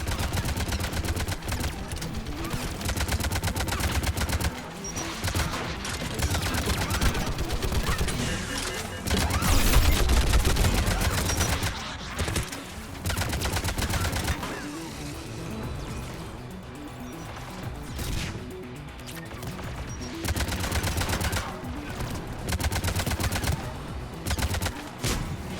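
Turret gunfire rattles in Mass Effect 3, dense sustained automatic bursts with crashes and impacts, loud throughout with brief lulls between volleys.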